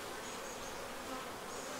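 Honey bees buzz in a dense, steady drone around an open beehive, faint and continuous, with no voices.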